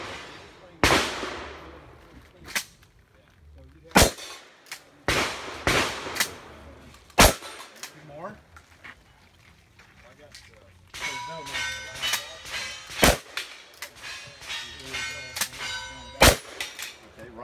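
Rifle shots ring off steel targets, one on a blue plate and two on a buffalo silhouette. Sharp cracks and metallic clangs come in irregular bursts, some close together, with quieter gaps between them.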